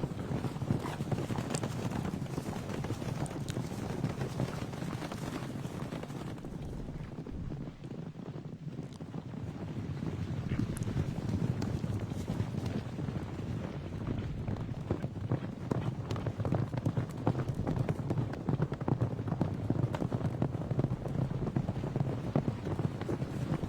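Horse hooves galloping in the video game Gallop Diva, a continuous rhythmic drumming of hoofbeats under wind-like rushing noise, dipping briefly midway before picking back up.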